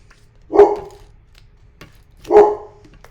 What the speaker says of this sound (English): And now she's going to bark.